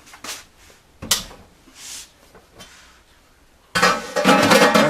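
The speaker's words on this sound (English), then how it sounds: "I'm going to take this pot off the stove, move it over here to the edge of the sink" A cooking pot lifted off a home stove and set at the edge of the kitchen sink, heard as several close metallic clanks and knocks, then a burst of running water at the end.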